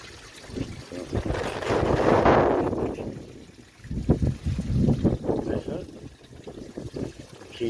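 Coolant water draining out of a Sprinter van radiator into a bucket during servicing, a continuous splashing trickle that surges loudly, then fades and returns with uneven gushes.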